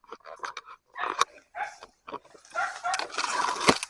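A dog barks repeatedly in a forest during a monitor lizard hunt, sharp irregular yelps close by, with rustling movement through undergrowth and brief bursts of noise between barks.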